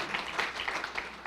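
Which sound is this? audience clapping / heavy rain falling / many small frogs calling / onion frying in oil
audience clapping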